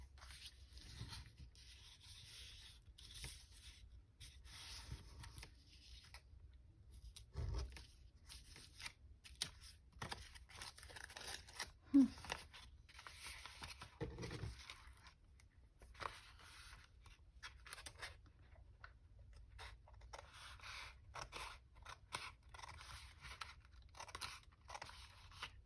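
Scissors snipping through paper while crafting a flip pocket, a run of short, close crisp cuts and rustles at low level with brief pauses.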